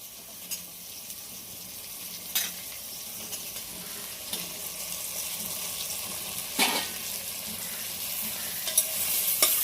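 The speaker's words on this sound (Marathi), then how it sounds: "हे सगळं आपण ह्या बटरमध्ये फ्राय करून घेऊया" Tomato and carrot pieces frying in butter in a pan for tomato soup, a steady sizzle with occasional sharper stirring scrapes, close and alone with no voices.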